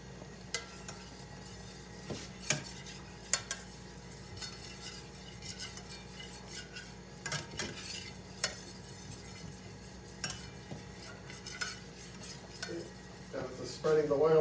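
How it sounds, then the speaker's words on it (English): Oil is spread around a cooking pan with a spatula while making fettuccine Alfredo, giving faint sizzling with scattered scrapes and clinks of utensil on metal, under quiet talk. "Spread your oil around the pan."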